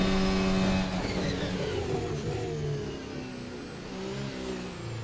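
A Formula 1 car engine from the F1 2024 video game at the Italian Grand Prix revs loudly and continuously, pitch climbing and falling through gear changes with no talk over it.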